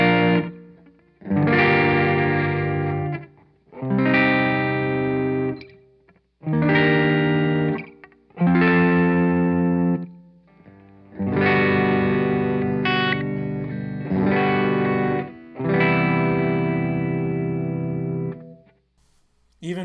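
Electric guitar through the bridge pickup with slight distortion, strumming chords in about eight separate phrases with brief pauses between them, loud and close, with each note of the chord audible.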